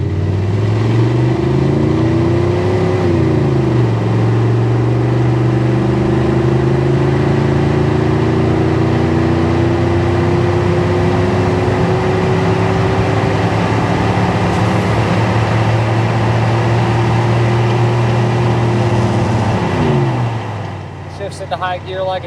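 A 1991 Chevrolet K1500 pickup with a 5.7 V8 cruising on the road, its engine drone rising through an upshift and then holding a steady, loud hum with road and wind noise until it eases off at the end.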